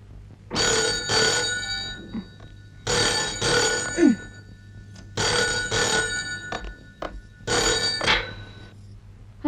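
A telephone rings in four repeated double bursts, fairly close and clear, with short pauses between each ring.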